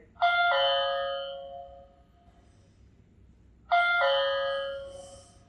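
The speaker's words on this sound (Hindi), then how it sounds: "डोरबेल को प्रेस करते हैं" Two ding-dong chimes of an electronic doorbell, each ringing out clearly and decaying, separated by a few seconds of quiet.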